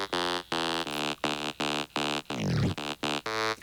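A bright, buzzy synth chord pulses in short rhythmic stabs, with an automated high-pass filter sweep opening through one longer swelling note midway; loud and alone.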